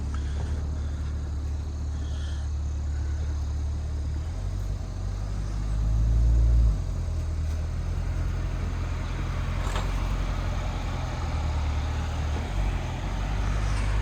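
Low rumbling engine of a Chevrolet Corvette C8 creeping up onto a Kwik Load 7x20 low-angle steel-deck car hauler trailer, a steady idle with a brief throttle swell partway through, no voices.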